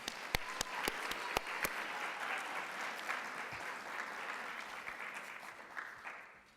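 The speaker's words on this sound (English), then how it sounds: "We should give her a round of applause for her valiant efforts over the years." Dinner guests at an awards banquet applaud steadily. A few loud, sharp individual claps stand out at first, then the clapping settles into an even wash that fades at the end.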